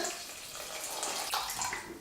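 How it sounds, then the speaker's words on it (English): Water pours from a container onto 100 grams of oats in a bowl for oat milk, a soft continuous splashing and gurgling that stays fairly quiet and close. "we're going to add the water"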